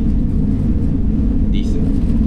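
Low, steady rumble of an Airbus A320 touching down and running reverse thrust in the MSFS2020 flight simulator, a loud continuous roar with a brief higher chirp partway through.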